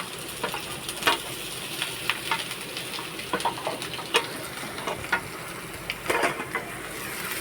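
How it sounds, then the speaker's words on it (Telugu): Grated carrot fries in a pan of oil tempering, a continuous soft sizzle broken by scraping stirs and clinks of a spatula, close and moderately quiet with no talking. "ఈ విధంగా మొత్తము బండిలో పూపులో బాగా వేగింది కాబట్టి క్యారెట్ తురుము దాంట్లో వేసుకున్నాము"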